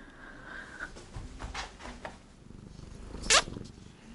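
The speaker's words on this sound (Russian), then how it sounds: "Кто это за кошка?" A cat indoors in a flat makes a few soft, brief sounds in a quiet room, with one short, sharp noise near the end.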